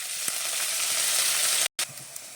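Mustard seeds, green chilies and curry leaves sizzling in hot oil for a Kerala Onam dish, a steady bright frying hiss with small pops, briefly cut off near the end before resuming.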